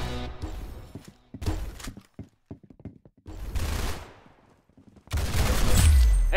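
Video game gunfire from a shooter, with loud bursts of rapid shots broken by short gaps and heavier booming blasts near the end, close and dense.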